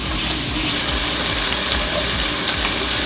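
Carrots frying in a pan for plov at a food truck grill, a dense, steady sizzle with crackling that continues evenly throughout.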